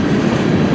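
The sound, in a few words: CN M384 freight train passing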